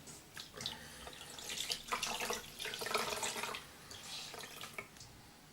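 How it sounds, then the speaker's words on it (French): Tap water runs and splashes into a sink while a face is rinsed with a washcloth, an uneven close trickle with splashy bursts, fairly quiet and with no talking. "Et maintenant donc je vais rincer."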